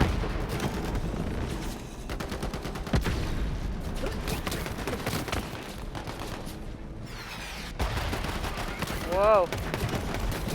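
A Digistruct torpedo gun firing in the video game Borderlands 3, with dense bursts of shots and booming impacts rolling on throughout, loud and busy, and a voice briefly exclaiming over it.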